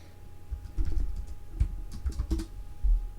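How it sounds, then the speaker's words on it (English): Keys clatter on a computer keyboard in short, irregular bursts of close taps, with brief pauses between groups of keystrokes, quiet and alone. "You can see here I'm typing in a name"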